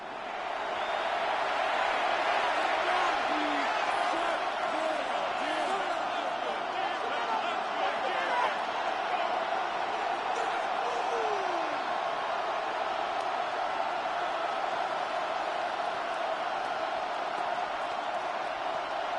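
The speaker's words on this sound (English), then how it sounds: "What about this crowd getting even louder before 3rd and 10?" Stadium crowd in a Madden NFL simulation of the Patriots at the Ravens, late in the game before a third-and-ten, a dense, loud roar that holds steady throughout without fading.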